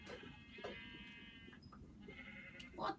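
Sheep bleat in the video game Minecraft, several wavering cries close by over a low background murmur.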